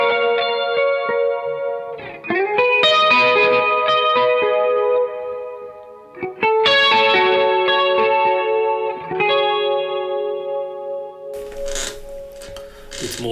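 Electric guitar through a 1965 reissue Fender Super Reverb amp with chorus and delay, playing sustained chords and melodic phrases that shimmer and echo, loud and close, with a short noisy scratch near the end.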